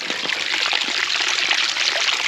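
Water flows and trickles along a drying patch of ground, a close, continuous splashing babble with small gurgles and no talking.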